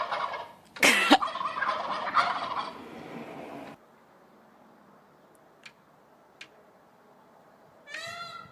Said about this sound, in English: Gobble, gobble, gobble, gobble, gobble.